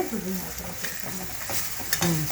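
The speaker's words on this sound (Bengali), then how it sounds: "এবার হলুদ দেওয়া হলো হলুদটা একটু নাড়াচাড়া করে" Turmeric is stirred into frying garlic in a pan, a continuous close sizzle broken by scraping spatula strokes and a couple of sharper clinks.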